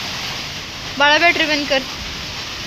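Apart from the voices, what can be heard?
wind and rain storm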